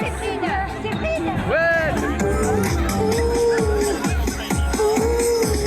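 A festive crowd of costumed winter swimmers, lively babble and shuffling of many people mixed with upbeat music and occasional cheers, steady and close.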